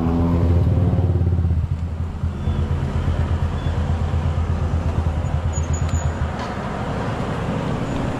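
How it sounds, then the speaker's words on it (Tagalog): A motorcycle engine runs loud and close on a street in Taiwan, a steady throbbing idle that stays constant throughout with no voices. "nandito na yung motor ni Boss Peter eh."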